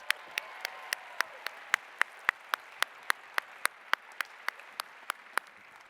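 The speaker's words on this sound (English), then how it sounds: "Let's give the senior class officers a round of applause." At a university commencement, one nearby pair of hands claps in a steady, even rhythm of sharp, evenly spaced claps over a faint wash of wider crowd applause.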